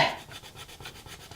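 Coloured pencil dragged across paper under heavy pressure, a soft close scratchy rubbing in repeated strokes about every fifth of a second, steady and quiet with no voices.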